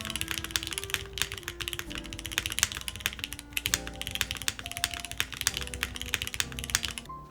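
Fast, continuous typing on a Neo98 mechanical keyboard fitted with Granite switches, crisp close-up key clacks in a dense, uneven rhythm with no speech.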